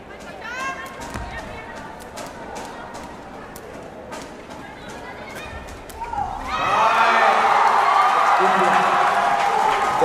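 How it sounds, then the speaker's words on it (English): Crowd cheering at a sepak takraw match as India scores: a broad, loud roar of spectators swells suddenly and holds, following a stretch of ball thuds, squeaks and commentary talk. "There's a loud cheer as India open their account."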